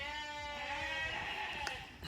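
Sheep bleat on a homestead, a sustained wavering cry held for about two seconds over a steady background, fairly close.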